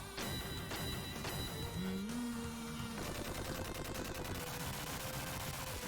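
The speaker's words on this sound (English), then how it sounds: "they go to town with their Vulcan shots" Rapid Vulcan gunfire from a mech in Gunstar Heroes on the Sega Genesis, a dense, continuous chiptune rattle of shots layered over busy game music and effects, loud throughout.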